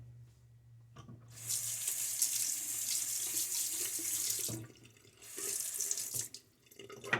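A tap runs while rinsing during a shave, with a near, steady splashing stream that starts after a quiet second, stops briefly around four and a half seconds, returns, and then ends in a short final burst.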